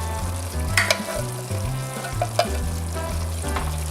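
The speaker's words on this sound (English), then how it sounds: "So now we're going to add in the tomatoes." Canned tomatoes stirred into a pot of sizzling meat chili: steady frying hiss with a few sharp spoon clacks against the pot, close and fairly loud, with no talking.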